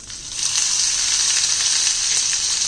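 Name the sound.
sauteing asafoetida and crushed garlic in a pan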